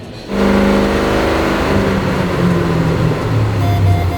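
A 7.0L stroker Jeep Trackhawk runs on a dyno in sixth gear. After a quiet moment its engine bursts into a loud, steady drone that climbs slowly in pitch.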